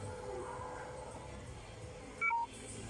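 A cellphone's low battery warning, a brief pair of high electronic beeps near the end, fairly faint over a quiet, hissy room background.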